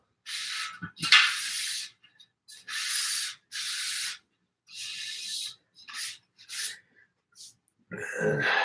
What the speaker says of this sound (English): just give the wheel a good wipe down